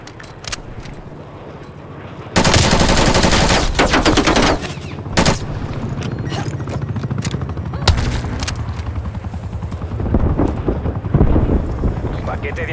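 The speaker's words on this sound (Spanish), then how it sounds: "Atención, helicóptero de ataque enemigo sobre nosotros." Call of Duty Black Ops Cold War multiplayer firefight: loud sustained automatic gunfire bursts and scattered shots over a rumbling background, with a voice announcing game events in between.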